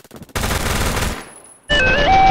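Phantom Forces gunfire: a quick burst of shots, then a loud sustained rattle that fades into a short silence before sharp game tones ring out.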